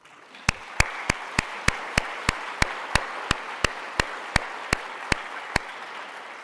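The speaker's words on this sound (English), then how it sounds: "I think that deserves a special applause" Sharp, evenly spaced claps ring out in a slow, steady rhythm, about sixteen in a row, over a quiet room.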